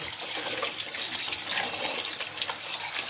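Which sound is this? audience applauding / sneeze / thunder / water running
water running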